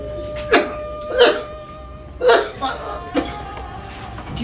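Four short, sharp coughs spaced about a second apart, close and fairly loud, with quiet background between them.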